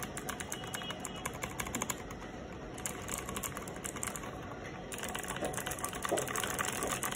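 A mechanical computer keyboard clatters under steady, close typing, its keys clicking in quick, uneven bursts with brief pauses.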